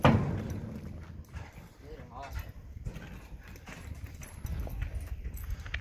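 Horse hooves clop irregularly on a hard floor as a horse shifts and steps while being loaded, with faint rustling and low background noise around it.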